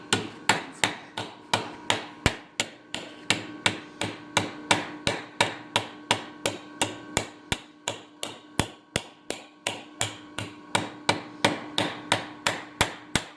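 Rapid, evenly spaced hammer blows strike a 3/16-inch truss head rivet through a rivet tool, dozens of sharp metallic taps in steady rhythm, close and crisp with no voices.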